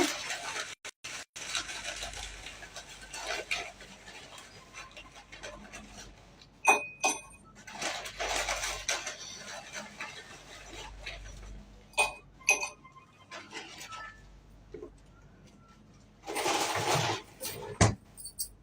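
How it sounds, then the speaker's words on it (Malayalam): Ice cubes clinking against a glass while a drink is mixed, bright irregular chinks and rattles in scattered bursts separated by quiet gaps, heard close up. "നോക്കിയേ റൈസക്ക, ഐസ് കൂടുതൽ ഇട്ടോ?"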